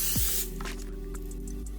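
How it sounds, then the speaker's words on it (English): A short hiss from an olive oil spray can releases a quick burst of oil, then quiet background noise. "So I'm going to use olive oil spray."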